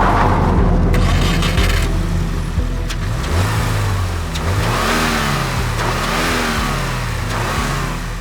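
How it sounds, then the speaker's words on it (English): A Subaru WRX TS, an all-wheel-drive manual, launches from a full-boost redline clutch dump, its engine roaring loudly with rising revs and quick gear changes throughout. "all-wheel drive manual transmission cars need a full boost redline clutch dump"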